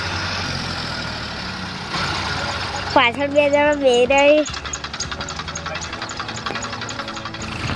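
A tractor engine, which earlier failed to start, runs steadily with a loud droning burst partway through before settling into an even chug, while voices talk nearby.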